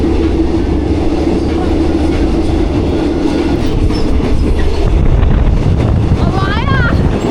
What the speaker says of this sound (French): on est arrivé dans le wagon, il y a beaucoup de bruit